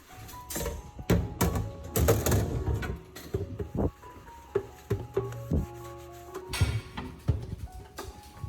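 Scrubbing an air fryer basket with a dish sponge, irregular rubbing strokes and scraping bursts, close and fairly quiet, with no speech.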